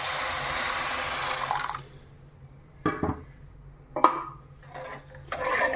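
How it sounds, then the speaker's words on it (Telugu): Water is poured from a cup into a pan to make sugar syrup: a steady splashing rush for under two seconds, then a few light metallic clinks and knocks. "ఆ కప్పుతోనే వాటర్ పోసుకోండి."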